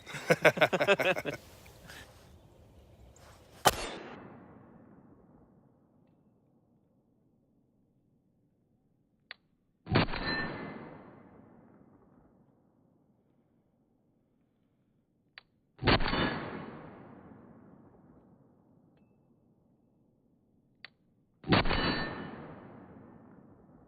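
Glock 19X pistol shots fired outdoors in the cold at steel targets, four widely spaced sharp reports, each followed by a bright metallic ring that decays slowly into near silence, with brief murmuring at the start.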